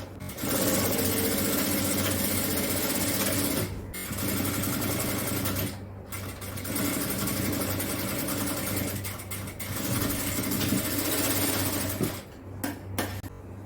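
Sewing machine running in long continuous bursts with brief pauses, close and loud, stitching the side seams of puff shorts.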